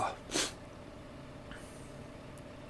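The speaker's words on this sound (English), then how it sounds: "Sorry guys, I'm going to sneeze." One sharp, sudden sneeze up close, a short loud burst followed by quiet room tone and a faint sniff.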